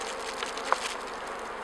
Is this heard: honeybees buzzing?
yes